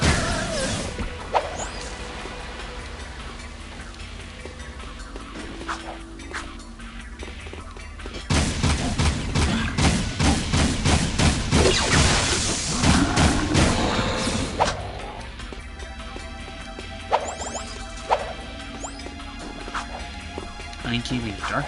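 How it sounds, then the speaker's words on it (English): Rapid, dense bursts of gunfire aimed at Metalheads in the video game Jak 2, loudest in a sustained volley midway, with game sounds and thumps around it and a voice talking throughout. "Just keep shooting them."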